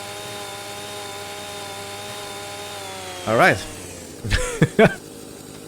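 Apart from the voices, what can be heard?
chainsaw cutting trees in a logging roleplay video game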